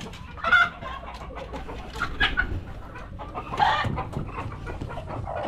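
Chickens on a Philippine backyard poultry farm with incubators cluck repeatedly in a steady, busy chorus at close range, with a few louder squawks rising above the flock noise.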